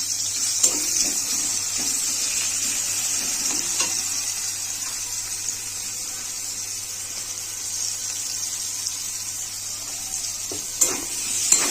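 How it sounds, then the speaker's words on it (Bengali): Sliced onions fry steadily in hot oil left from frying potatoes for egg biryani, a constant close sizzle with occasional stirring clicks and no talking. "আলু ভাজার তেলটাতে আমি পেঁয়াজটা ভেজে নেব বেরেস্তার জন্য"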